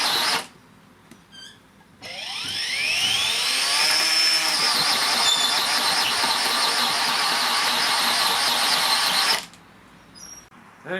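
A Makita 18V power head cultivator on its highest setting churns into clay soil, a loud, steady whining motor with a rising pitch sweep as it starts, running continuously for several seconds before cutting off, with brief quiet gaps before and after.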